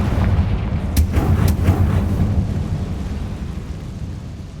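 Confringo fire spell in Hogwarts Legacy blasting in a loud, dense rumble with two sharp cracks near the start, the boom rolling and slowly fading over several seconds.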